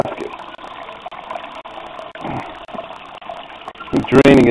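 Liquid draining from a heavy grain basket during a brew on a Cajun cooker, a trickling and splashing sound that swells into a louder gush at the end, with some speech mixed in.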